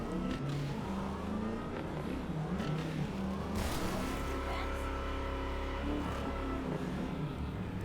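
Car driving in the video game Cyberpunk 2077, a steady engine drone with gear shifts and revving throughout, continuous and fairly loud.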